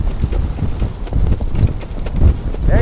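A horse trotting outdoors, its hooves clip-clopping in a steady, fairly loud rhythm with some wind noise across the microphone.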